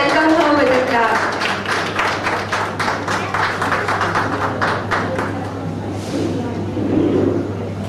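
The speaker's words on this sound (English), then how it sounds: "Let's all welcome her with a clap." Audience clapping welcomes chief guest Madam Anjana Hazare at a Hair for Hope Gujarat event: rapid, rhythmic claps carrying for several seconds, then thinning as crowd murmur and a voice take over.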